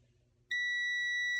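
A multimeter on its continuity setting lets out a sudden steady electronic beep that starts after a short quiet moment and holds loud and unbroken, used while testing an arcade machine.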